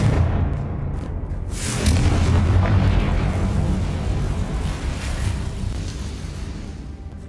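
A Confringo blasting spell explodes in Hogwarts Legacy, a loud booming burst that rumbles and crackles, then slowly fades over several seconds, heard alone without speech.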